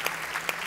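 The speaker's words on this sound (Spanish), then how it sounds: "Otro aplauso." Brief burst of audience applause during a singing-competition battle round on a televised talent show, steady clapping with a few louder hand claps standing out, fairly distant and even.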